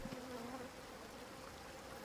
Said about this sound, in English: Oh, there's actually bees there.